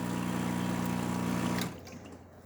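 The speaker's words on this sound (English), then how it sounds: "Steam boiler filling and water pump pumping." Espresso machine's water pump refilling the steam boiler after a heating element replacement, a steady humming drone with watery churn that stops abruptly partway through, leaving a low residual hiss.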